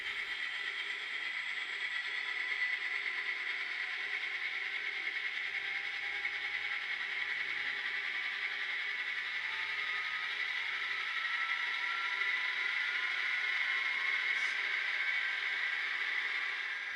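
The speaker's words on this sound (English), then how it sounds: "allows the motor sound to rev independently of the locomotive's actual speed" An N scale Atlas SD60E model locomotive's diesel motor sound revs and drones steadily with a whirring mechanical hum, holding an even level for a long stretch, close and continuous.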